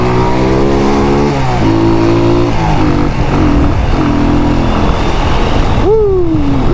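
A motorbike on red rims revs its engine in heavy Half Way Tree traffic in Jamaica, loud and close, with stepped rising and falling pitch across several blips and a final sharp rev that sweeps upward then drops.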